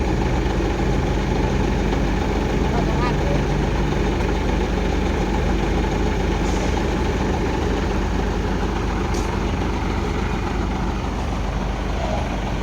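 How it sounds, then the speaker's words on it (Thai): A Rocky FXZ-260 engine idles with a steady, loud, close rumble that stays even for the full length, with no talking. "ผมชอบเครื่องตัวนี้มากครับนิ่มแรงด้วย"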